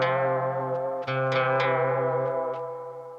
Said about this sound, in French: C'est une simulation de délai Roland, délai à bande.